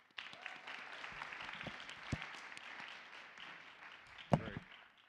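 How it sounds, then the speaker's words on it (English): Audience at a leadership summit gives a steady round of applause, many hands clapping together in a sustained burst that swells near the end with a few louder claps before tapering off. "Can we give them a round of applause?"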